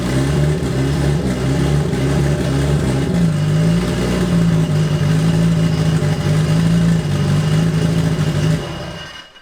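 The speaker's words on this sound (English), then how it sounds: "So the engine starts" A rebuilt 635 bhp Nissan Silvia S15 drift car engine runs loud and close, a rough, throbbing mechanical drone with slight rises in revs that holds steady throughout before cutting out at the end.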